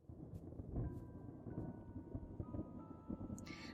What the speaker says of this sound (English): Also, the thunder crazy storm, I don't like this.